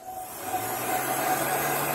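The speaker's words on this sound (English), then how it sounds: "This is a heat gun." Continuous whirring rush of a Uline heat gun blowing hot air, a steady motor whine with airy hiss throughout, close and fairly loud.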